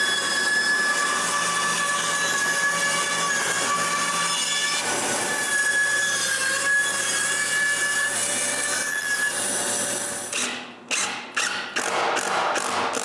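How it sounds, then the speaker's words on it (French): A band saw roughly cuts wood shapes for a woodworking spinner project, a loud steady whining drone that ends in a few short, choppy bursts as the blade bites. "à scie à ruban"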